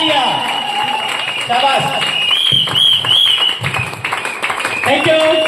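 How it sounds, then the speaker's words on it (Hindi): An audience claps and cheers at a success-story event honouring teachers, with balloons mentioned, a lively burst of clapping under a loud voice shouting praise, with whistling tones mixed in. "सभी गुरु के लिए जोरदार ताली"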